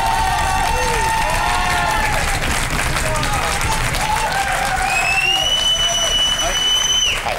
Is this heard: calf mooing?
no